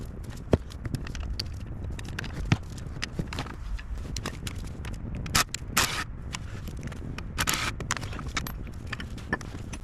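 Ratchet and spanner work on a tight 21mm caliper carrier bolt on a VW Transporter front brake, heard as irregular close metallic clicks, knocks and scrapes over a low background.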